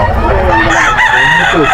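Roosters crow at a busy chicken market, several long crows overlapping one another close by, with other fowl clucking and voices murmuring in the background.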